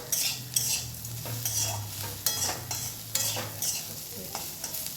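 Ivy gourd slices fry in a pan on a gas stove while a spatula scrapes and stirs in uneven strokes, over a steady low sizzle and hum, with no voices.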